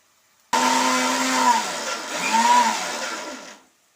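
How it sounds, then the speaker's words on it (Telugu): A kitchen mixer grinder whirs through roasted gram and green chillies in two loud bursts with a brief dip in speed between them, then cuts off abruptly. "ఈ పుట్నాలు పచ్చిమిరపకాయలు కలిపి మిక్సీ చేసేసుకుంటున్నాను."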